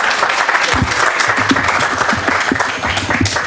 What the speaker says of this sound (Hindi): जरा दिलों की धड़कनों को हथेलियों पर रख के तालियां बजा दीजिए।